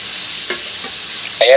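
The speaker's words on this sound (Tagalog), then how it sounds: "Prito na natin yung pork belly" Pork belly sizzles steadily in hot oil with a brief stirring clatter, then a louder burst of frying at the end.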